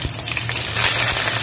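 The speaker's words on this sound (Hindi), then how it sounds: "डीप फ्राई नहीं है, सेलो फ्राई है, तो इस ऑयल में इसको हम धीमी आंच पे फ्राई में देंगे।" Meat shallow fries in oil on a low flame for a Turkish-style kabsa, a close, continuous crackling sizzle with soft bubbling and slight stirring or pressing noises.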